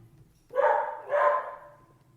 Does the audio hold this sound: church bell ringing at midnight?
no